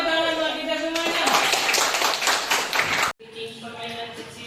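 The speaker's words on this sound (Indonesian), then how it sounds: "Tepuk tangan buat kita semuanya." A group at an individual mentoring session claps together, a rapid burst of hand claps under a speaking voice that breaks off abruptly before talk resumes.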